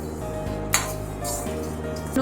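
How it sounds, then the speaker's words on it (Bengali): Whole spices are stirred in a dry pan for khichdi, with a few light scrapes and clinks of a spoon against the metal over a low steady background hum. "খোলায় ভাজা মশলাটা রেডি করার জন্য মশলাগুলো আমি একটু নেড়ে নিলাম"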